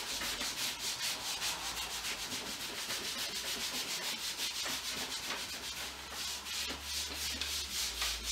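Paint being rubbed lightly onto a canvas for an abstract painting gives a continuous, faint, close-up rubbing with quick back-and-forth strokes and no voices.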